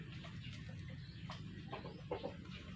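Mestizo gamecock roosters in Mindanao cluck in short, scattered bursts over a steady low background hum, fairly close and moderately loud.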